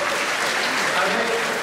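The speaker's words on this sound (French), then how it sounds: "vous pouvez les applaudir parce que c'est eux qui font le boulot" Brief burst of dense audience applause at a Miss Sud Loire beauty pageant evening in Touvois, steady clapping from a crowd across the whole short moment, fairly loud and close.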